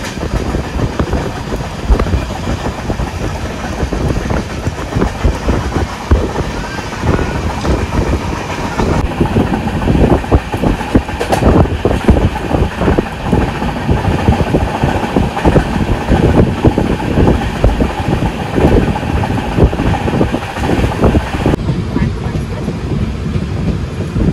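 A Konkan Railway passenger train runs at speed through the Konkan region, a loud continuous rumble of wheels and carriages with rhythmic rail clatter throughout, heard from on board.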